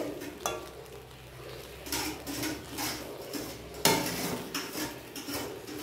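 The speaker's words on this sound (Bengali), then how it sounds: "তার আগে এইভাবে ভালো করে নেড়ে নিতে হবে" A metal spatula repeatedly scrapes and knocks against a pan while fried rice is stirred and tossed, with rhythmic strokes roughly every second, a louder clang near the middle, and a faint sizzle underneath, close by.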